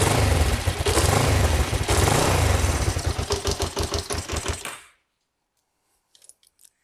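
A Kawasaki GPZ 500S motorbike that sat unused for four years cranks on its electric starter, a loud rhythmic churning that slows and stops abruptly, followed by silence and a few faint clicks.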